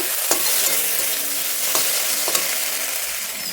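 Vegetables tossed with chilli and tomato sauce in a hot pan for chow mein, stirred and scraped with a steady sizzle, close and fairly loud, with a few sharp spatula clicks against the pan and no voices.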